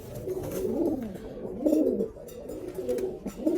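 A pigeon coos close by in repeated soft, throaty rolling phrases, each swelling and fading in a steady rhythm with no talk over it.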